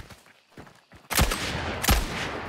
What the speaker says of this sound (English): Just suppressive fire here.